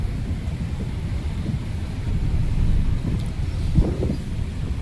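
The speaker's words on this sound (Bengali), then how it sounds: "আর প্রচুর পরিমাণ বাতাস।" Strong wind buffets the microphone on the open deck of a nearly empty river launch at night, a continuous low roar with a brief louder gust near the end.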